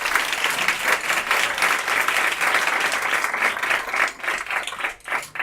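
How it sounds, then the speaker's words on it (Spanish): A live audience applauds the participants at a Halloween PechaKucha presentation night. The clapping is dense and steady throughout, loud and close, with a brief dip near the end before it swells again. "Un aplauso para ellos, por favor."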